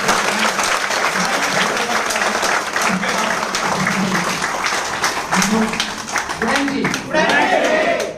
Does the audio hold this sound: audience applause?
yes